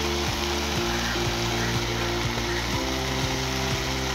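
Vegetables with chili powder and garam masala sauté in a pan with a steady close sizzle, broken by repeated scraping clicks as they are stirred.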